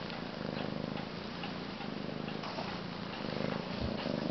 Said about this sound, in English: You're such a loud purr.